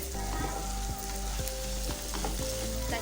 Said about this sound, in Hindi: इसको जो है मज़ीद 10 से 15 मिनट तक भूनना है